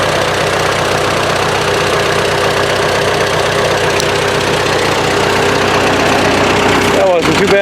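A rusty Ford 8N tractor engine, restarted after sitting through the winter, runs at a steady idle, loud and close, with a continuous even rumble that holds throughout.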